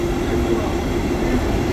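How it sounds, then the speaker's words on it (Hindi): Train pulling into a station platform in China, a steady, loud rumble with a low hum that holds evenly for the whole stretch. "ये देखिए यहाँ की ट्रेन आ रही है।"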